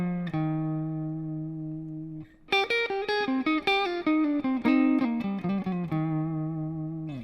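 Clean electric guitar plays a quick lick of double stops, two-note chords picked in a bouncy rhythm after a sustained bent note and a short pause, close and clear with no talking.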